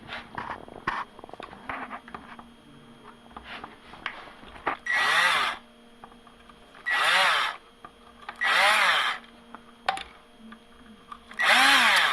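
A power drill with a 4.3 mm bit whirs in four short, loud bursts with pauses between, drilling out Loctite from screws on an RS5 touring car chassis, over quieter tapping and handling noises.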